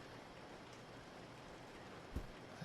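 Rain pours outside a train in the Resident Evil Zero video game as a continuous, even hiss, with a brief low thud near the end and no talking.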